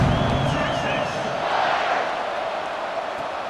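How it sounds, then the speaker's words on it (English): A stadium crowd in the College Football 26 video game roars in a sustained, loud wash of cheering and whistles, with no commentary over it. "You think this crowd's going to get loud when their defense comes on the field?"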